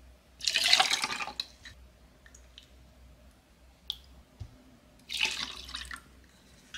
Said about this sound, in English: then we're gonna take this lid and fill it with water